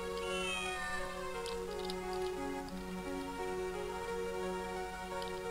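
A cat meows in the video game Tales of Phantasia, a short stylised sliding cry heard early over looping background music, which carries on steadily afterward.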